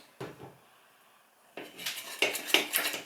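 A spoon stirs red slime and water in a bowl, a soft knock early on, then after a quiet pause a busy run of sharp clinks and scrapes against the bowl.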